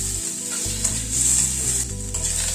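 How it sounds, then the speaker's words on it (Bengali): Masala being stir-fried with cashews and raisins in a pan, giving a continuous dense sizzle with soft stirring, close, alongside steady low background music and no talking. "কাজু কিশমিশ দিয়ে আবার একটুখানি নাড়াচাড়া করে নিলাম।"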